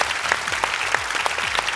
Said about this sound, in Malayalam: ഗോവഞ്ചേട്ടൻ, ഒരു കൈയടി കൊടുക്കാം